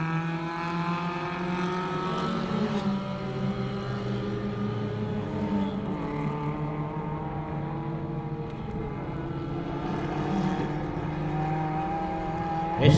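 Race cars battling through a slipstream on the Katukurunda circuit during a 2021 motor race, engines droning with several overlapping rising and falling tones, moderately distant and continuous.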